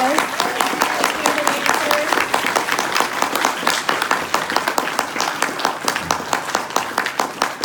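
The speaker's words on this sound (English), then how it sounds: "Let's please give them a round of applause." A room full of people at a general meeting breaks into a steady round of applause, dense clapping sustained for several seconds with a murmur of voices underneath.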